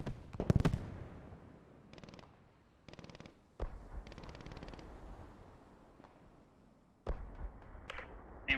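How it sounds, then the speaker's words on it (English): Enemy machine-gun fire in the World War II shooter Post Scriptum, several short sharp bursts spaced apart at moderate distance, with a few louder single cracks between quiet gaps. "I hear him firing"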